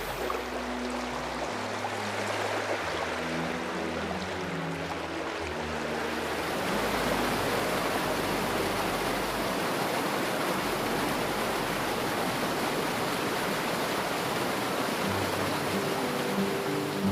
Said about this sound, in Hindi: लेकिन अभी मानसून चल रहा है ना, तो नदी अपने रौद्र रूप में, मतलब इतनी तेज बहाव है ना